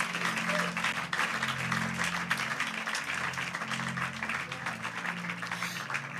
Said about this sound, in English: If you want to clap for Jesus.